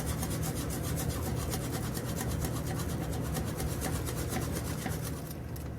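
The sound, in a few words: whisking flour into boiling water and butter in a pot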